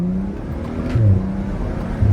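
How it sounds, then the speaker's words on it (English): BMW 335i with a turbocharged engine pulling hard under acceleration, a loud droning rev that climbs and drops as gears change, with brief thumps at the shifts. "You guys hear the shifts, like it's just like boom, boom."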